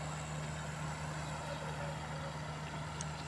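Trawler boat engine running steadily, a faint low droning hum with an even tone, heard from some distance and without other sounds.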